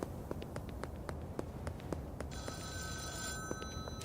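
A telephone rings in the video game Schedule 1, with repeated short electronic ring bursts at a steady rhythm, followed by a sustained tonal chime over quiet background noise.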